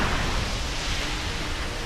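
A dense, steady hiss of an enemy poison attack in the video game Elden Ring Nightreign fills the whole clip, like spraying gas, loud and unbroken with no voices.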